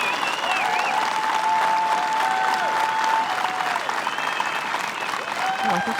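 A crowd applauds a putt at the 2023 PDGA Pro World Championships disc golf final, sustained outdoor clapping and cheering with faint whistles, continuous and fairly loud throughout.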